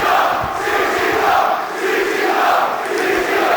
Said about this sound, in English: Listen to the crowd, Eric.